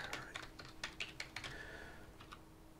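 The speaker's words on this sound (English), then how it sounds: "All this typing, man." Computer keyboard typed on while playing Ultima IV, a quick run of soft individual keystrokes clicking at an uneven pace, then a pause and a couple more taps, fairly quiet and close, no voices.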